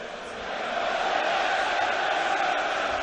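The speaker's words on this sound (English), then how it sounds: "the United fans making themselves heard" Sheffield United supporters singing and roaring in a packed stadium at an FA Cup match against Manchester City, a dense, steady wall of crowd voices that swells slightly and holds loud throughout.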